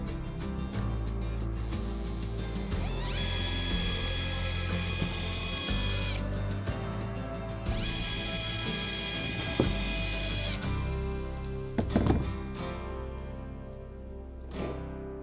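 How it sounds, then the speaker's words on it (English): A power drill with a 3/16 bit whines in long bursts, drilling holes for a sail furler on a Hobie kayak, stopping and restarting, with clattering and knocks between runs; loud and close, no talking. "I'll drill out these two holes"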